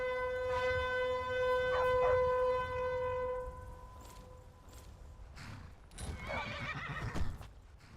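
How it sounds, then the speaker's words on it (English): A horse in the Skyrim video game whinnies loudly with a long, sustained neigh, followed by softer game ambience and a burst of hoofbeats and movement near the end. "Let's call our horse."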